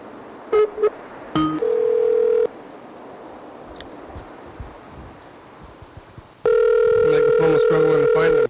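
Telephone tones from a call being placed: a few short beeps, then a steady dial tone for about a second, a quiet pause, and a loud sustained ringback tone at the end, with no talk over it.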